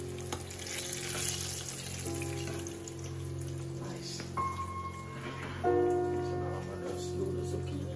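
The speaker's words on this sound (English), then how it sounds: "There goes my baigan finished frying it, nice and golden brown." Eggplant slices frying in oil in a pan during home cooking in Santorini, Greece; a steady, low, close sizzle runs throughout under faint background hum, with a person talking over it.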